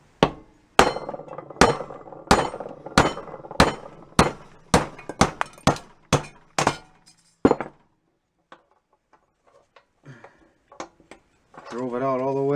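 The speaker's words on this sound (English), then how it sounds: "now we're going to drive these bushings out." Worn kingpin bushings on a 1965 VW Beetle front end are hammered out with a series of about a dozen sharp metallic blows at a steady rhythm. The blows come close and loud, then give way to quieter taps and a brief voice.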